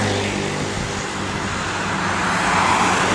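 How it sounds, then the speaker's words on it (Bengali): Busy city street in The Hague with cars and motorcycles passing, a steady broad roar of nearby traffic with engine rumble throughout and no voices. "হাঁটা রাস্তা, তার পাশে মোটর সাইকেল, তার পাশে গাড়ি"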